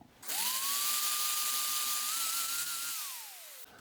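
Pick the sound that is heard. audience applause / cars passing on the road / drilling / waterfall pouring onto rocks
drilling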